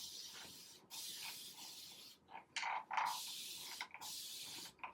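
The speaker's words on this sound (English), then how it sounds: "just take my spray bottle. And I'm just going to re-wet my hair" A spray bottle mists water onto low porosity type 4 hair in a run of quick, close hissing bursts, a few longer and a few short, separated by brief gaps, with no talking.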